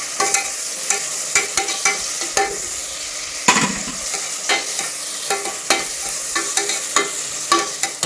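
Sliced onions sautéing in oil for a bachelor-room biryani, with steady sizzling broken by repeated scraping and clinking strokes of a spoon stirring the pan, close and moderately loud, no voices.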